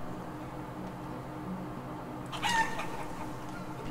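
Chickens in the village game Life is Feudal: Forest Village cluck faintly over a steady ambient bed, with a brief louder squawk near the end.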